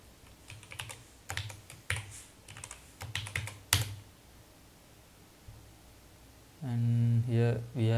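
Keystrokes clatter in short bursts on a computer keyboard while an address is entered on a Linux Mint machine for a remote connection, then a louder tonal hum takes over near the end.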